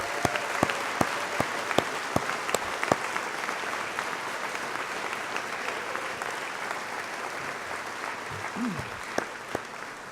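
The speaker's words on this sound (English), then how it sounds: "One more round of applause for a great class" Applause for the graduating class at a university graduation ceremony, a steady wash of many hands clapping throughout with a few sharp individual claps standing out early on.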